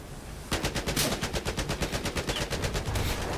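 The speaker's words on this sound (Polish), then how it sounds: "Ja słyszałem, że ktoś do mnie strzela" Gunfire in the Battlefield 4 video game: after a brief rumble, a loud, rapid, steady automatic burst of shots runs on for about three seconds, close and dense, with no talk.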